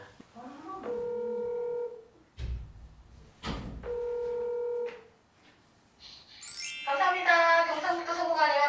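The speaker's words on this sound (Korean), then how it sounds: "내가 전화를 해서 한번 물어볼까요?" A telephone call is placed during a Korean radio broadcast: a run of distinct DTMF keypad tones, then a ringback tone, followed by the line picking up with a chiming ring, all clear and up close.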